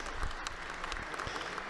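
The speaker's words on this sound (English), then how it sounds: "And warmly welcomed with a round of applause by the heads and senior officials of the various dicasteries of the Roman Curia." Officials of the Roman Curia applaud to welcome Pope Francis in a Vatican audience hall, a steady wash of many hands clapping together, fairly distant and even throughout a short stretch, without speech.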